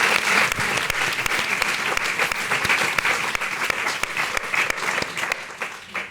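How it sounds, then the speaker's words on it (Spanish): A conference audience applauds steadily, a dense patter of many hands clapping at moderate loudness that carries on throughout and thins slightly toward the end. "Un aplauso merecido."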